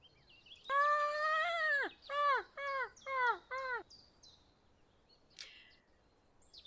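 A player's bird call from the Wingspan digital board game: a harsh raspy caw repeated five times in a descending run, loud and close, followed by a brief faint chirp.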